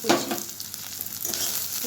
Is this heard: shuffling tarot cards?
no